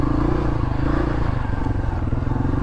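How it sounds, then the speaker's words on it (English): A 2018 Honda CRF250L motorcycle engine runs steadily up close on its first ride, a loud, continuous thrum with no clear change in revs. "Honda Riding's first test spin on the Honda Crf250L"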